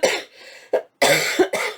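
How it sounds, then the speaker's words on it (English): Several harsh coughs from one person close to the microphone, bursts clustered at the start and again in the second half, separated by short gaps and alone without talk. "I thought I was going to get through this without any coughing"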